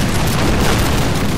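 Musket volleys crackle and boom without pause in a Napoleon: Total War battle between Russian and French line units, a loud, dense roll of overlapping shots with no voices.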